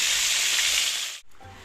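Fish frying in a pan gives a steady, bright hissing sizzle for about a second, then cuts off abruptly, leaving a faint low room murmur.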